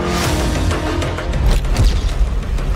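A deep, rumbling boom from a drone attack explosion rolls on under a loud, continuous wash of noise, followed by heavy reverberation.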